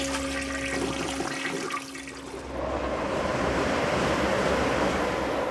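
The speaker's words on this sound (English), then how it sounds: "when we flush, not all of our poop goes down the toilet" A household toilet flushes loudly and close up, a steady rushing torrent of water that briefly dips, then surges back into a continuous roaring swirl.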